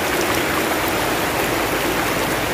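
Strong river current rushes steadily and loudly during a crossing, a dense, continuous roar of flowing water close by with no voices.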